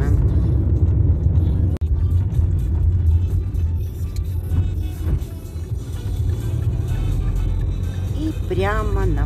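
A car rolls slowly over a rough, broken road under repair, its engine rumble and tyre noise steady and close throughout, with a person talking over it.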